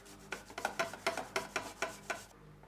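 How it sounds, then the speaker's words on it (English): Rhythmic scraping strokes of a garlic clove rubbed across a microplane grater, about a dozen quick rasps close up, stopping abruptly. "I have my microplane. And I'm just going to grate in 1 clove of garlic"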